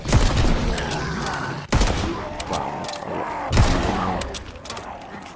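A Wz. 35 rifle in a World War II zombie shooter fires a few loud, sharp shots with booming tails amid game noise, and a voice exclaims briefly.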